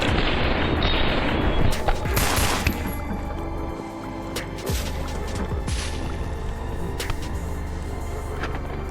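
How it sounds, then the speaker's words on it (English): Machine gun fire in the multiplayer space station game Space Station 14, a sustained roar of rapid shots and booming bursts that fills the whole stretch, heavy at first and then steadier. "Machine gun in hand, he guns down the mime in cold blood."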